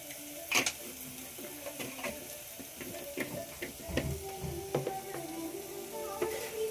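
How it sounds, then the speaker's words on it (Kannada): Turmeric powder and spices frying in hot oil in a pan, with soft crackling sizzle and scattered stirring clicks and taps at close range, fairly quiet, no talking. "ಫ್ರೈ ಆಗ್ಬೇಕದು ಒಂಚೂರು. ಇದು ಅರ್ಶಿನದ ಪುಡಿ ಕಲರ್ಗೆ."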